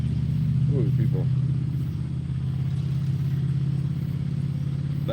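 A loud truck engine runs nearby at a fishing spot, a steady low rumble throughout with a few faint voices.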